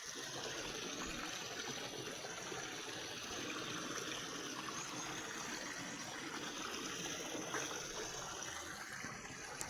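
Water runs steadily through shallow natural pools fed by a waterfall, a continuous close rushing and gurgling with no voices over it.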